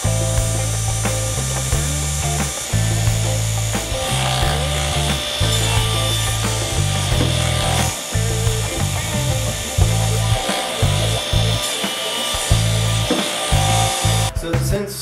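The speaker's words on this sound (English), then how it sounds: "I went ahead and just set up a stop block on my crosscut sled." A table saw with a crosscut sled and stop block cuts the ends of exotic hardwood cribbage board blanks, a loud close whine with repeated rhythmic bursts as each pass bites through the wood.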